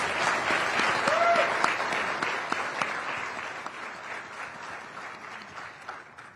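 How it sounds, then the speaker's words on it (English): An audience claps steadily at a drill sergeant of the year competition event, with a faint voice briefly over it. The sound is moderately loud and gradually thins out over several seconds. "Let's give him a round of applause."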